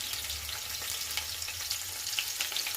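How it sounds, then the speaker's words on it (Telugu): Chana dal and onions fry in hot oil for semiya upma, giving a steady, close, even sizzle with faint crackles throughout and no voices. "శనగపప్పు, ఉల్లిపాయలు కొంచెం ఫ్రై అవ్వాలి."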